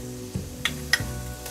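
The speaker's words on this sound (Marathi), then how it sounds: "हे थोडा वेळ फ्राय करायचे." Boiled, peeled potato pieces fry in a pan for a Marathi-style usal, giving a steady close sizzle with a few sharp scraping stirs or clinks.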